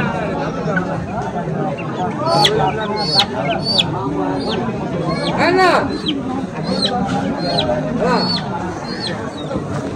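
Native chicks and chickens clucking and peeping in quick, overlapping calls amid a busy village market babble of voices.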